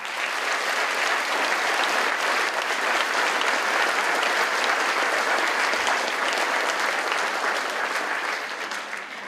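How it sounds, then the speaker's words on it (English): Large audience at a climate change conference giving a long, loud round of applause for a music performer, dense steady clapping filling the hall without pause. "Please give another round of applause for this exceptional artist"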